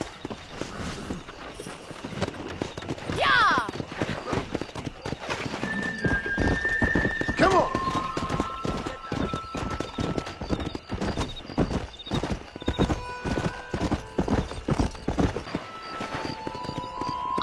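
Horses galloping in the western video game Red Dead Redemption, with steady rapid clip-clop hoofbeats throughout and a loud whinny early on, close and clear, with no speech.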